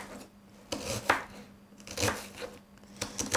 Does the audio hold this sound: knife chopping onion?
yes